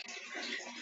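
Water pump running in a Roblox colony game, a brief, steady gush of rushing water, fairly quiet and alone.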